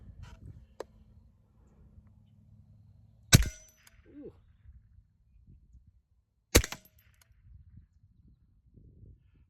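A Remington Speedmaster 552 rifle fires two sharp, loud shots several seconds apart outdoors, with quiet background rustle and faint movement between them.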